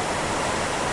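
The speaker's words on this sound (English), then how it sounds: "you will find many hydroelectric power stations which release copious amounts of water" Copious water pouring out of a hydroelectric power station into the Ravi River in Chamba, Himachal Pradesh, a dense, steady roar of rushing water filling the whole second without any voices.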